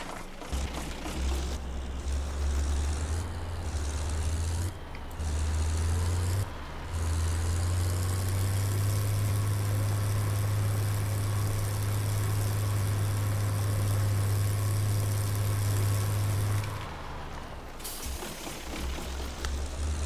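A Steyr tractor engine in Farming Simulator 22 runs loud and close, with a steady low drone that holds for long stretches. It drops out briefly a few times, then cuts off near the end.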